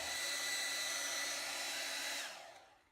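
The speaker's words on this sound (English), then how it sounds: "I'm going to turn the dryer on and dry this" A hair dryer blows steadily to dry wet paper on a grungy layered journal page, a loud close airy roar that holds for about two and a half seconds, then winds down and cuts off.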